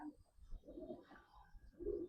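Small domestic pigeon, a female, cooing softly in a low, throaty rumble, with a couple of faint murmuring phrases close by in a quiet setting.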